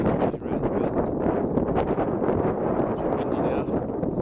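Steady wind buffets the microphone on a mountain hike in Tenerife's Anaga Mountains, with drizzle in the air, a constant rumbling roar, continuous and close throughout.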